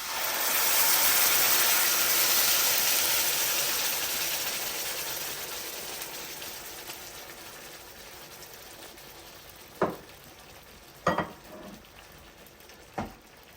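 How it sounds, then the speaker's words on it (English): Blended butter chicken gravy hits hot oil with whole spices in a pan, giving a loud hissing sizzle that gradually dies down, followed by a few sharp clinks of a utensil against the pan. "Heat the oil and put the whole spices. Put the blended gravy."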